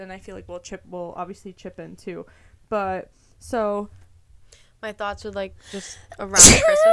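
A person sneezes once, loud and close, at the end of the clip, after relaxed conversation among several people talking about holiday plans.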